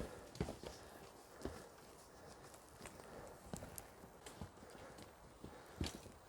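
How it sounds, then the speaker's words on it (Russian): Mountain goats run along a hiking trail in Torres del Paine, Patagonia, and their hooves give a light, irregular clatter of hoofbeats with no talk, heard against a faint outdoor background. "смотри, какие горные козы бегом бегают."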